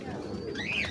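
A Ferozpuri pigeon coos softly and close by, a low rolling murmur heard over a noisy background.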